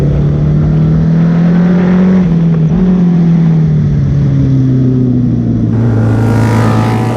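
Motorcycle engine accelerating on a track, heard close and loud with a smooth rising and falling drone, a brief shift-like dip, then a lower steady pull near the end.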